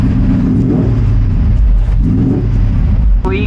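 Engine of an NSX with a Ferrari gearbox on a test drive, a loud steady rumble from inside the car that swells twice with acceleration, ending with a brief rising whine.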